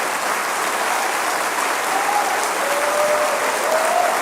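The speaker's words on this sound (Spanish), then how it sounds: "Dale otro aplauso al Señor." Church congregation applauding together in a worship service, a dense, sustained clapping that fills the room for several seconds without speech.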